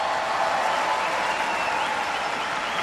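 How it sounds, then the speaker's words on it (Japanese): Arena crowd at the 1994 Lillehammer Olympics applauding a figure skater taking the ice, a steady wash of clapping from a large audience that stays even and moderately distant throughout. "場内のこの拍手をお聞きください。"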